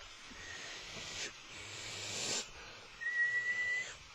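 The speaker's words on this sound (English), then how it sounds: "Maybe appropriately when I'm holding the whistle with the penguin on it though." A small toy whistle with a penguin on it is blown near the microphone, breathy airy puffs first, then a thin, steady high whistle tone held for under a second.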